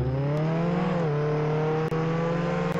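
A car engine drives steadily in the Roblox game Jailbreak, a continuous hum with a slight pitch dip, alone and up close.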